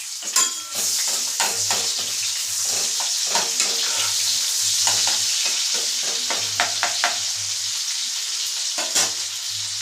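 Chopped onions frying in hot oil while being stirred for a pasta dish, a loud, continuous sizzle broken by repeated scraping and clinking strokes of a utensil against the pan.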